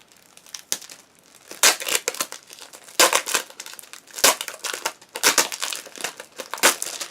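A plastic file folder is opened by hand, giving repeated crisp crinkling and crackling bursts at close range, some sharp snaps among them, with brief quiet gaps between handling movements.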